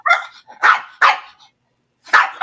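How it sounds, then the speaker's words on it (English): Small dogs give four sharp, close barks in quick succession with a short pause before the last, loud and clear against a quiet indoor background. "I'm going to go get my little puppy dogs out"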